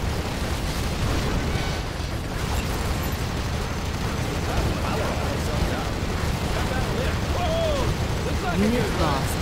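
Explosions from bombing tanks in C&C Generals Zero Hour rumble continuously with dense booms and bursts, loud and sustained, while a voice talks over the noisy battle.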